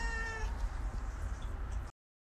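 Several cats meow in a steady harmonic run indoors, fairly close and continuous for about two seconds before the sound cuts off abruptly.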